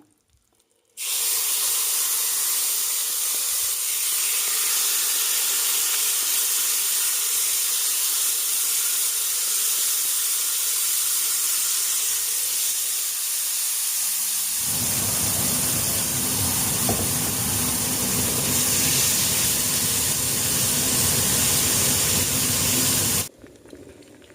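Fermented fish paste (pla ra) sizzles loudly and steadily in a hot pan, turning fuller and more crackly about halfway through, then stops abruptly.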